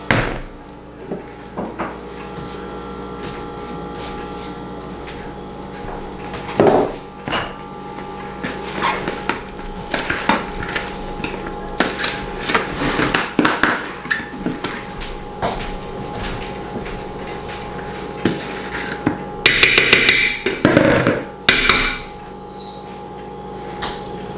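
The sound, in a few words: pounding shredded cabbage to release juices for fermentation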